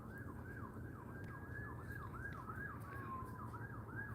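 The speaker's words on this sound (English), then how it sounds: "And now you hear sirens." A wailing siren rises and falls repeatedly at a distance, over a constant low rumble of traffic.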